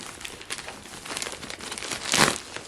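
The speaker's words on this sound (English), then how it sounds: "I literally cannot cut this bag open." A packaging bag crinkles and rustles steadily as someone struggles to cut it open, with a louder burst of crumpling plastic near the end, close and without talk.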